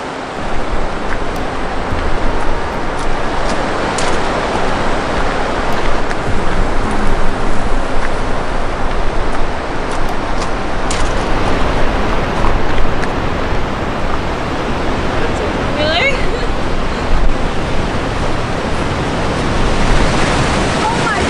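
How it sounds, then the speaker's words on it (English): A waterfall near Iskanderkul in Tajikistan roars as a steady, loud, broadband rush of water, constant and close throughout with no voices over it. "Crazy waterfall."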